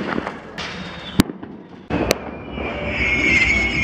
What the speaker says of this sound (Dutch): Dikke vuurwerk.